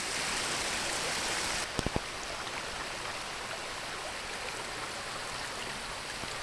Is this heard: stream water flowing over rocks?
yes